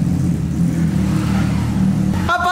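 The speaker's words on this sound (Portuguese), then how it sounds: "essa moto tá forte" Honda CB1000 motorcycle engine holding a steady, loud low rumble, with a sharper rising rev tone breaking in near the end.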